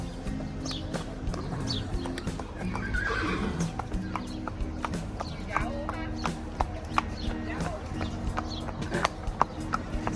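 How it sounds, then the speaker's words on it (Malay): A ridden horse clip-clops in the Wadi Berkat countryside of Andalusia, its hooves giving a steady run of sharp, close knocks, with a whinny, birds and low voices in the background. "Saya juga mengambil peluang untuk menunggang kuda."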